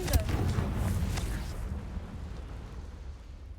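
In the Hogwarts Legacy video game, a Confringo explosive spell goes off as a deep rumbling burst with a crackling onset that decays slowly into a low roar, loud and close.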